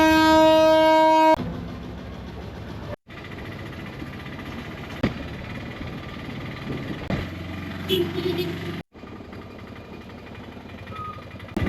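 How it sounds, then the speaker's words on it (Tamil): A train at the Hali-Ela railway station near Badulla, Sri Lanka, opens with a loud horn blast and then rumbles steadily past with clattering wagons, close and loud, with a few brief cuts and some voices in the background. "railway station"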